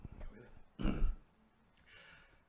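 A single short, throaty cough sounds close by, followed by faint breathing and quiet room noise.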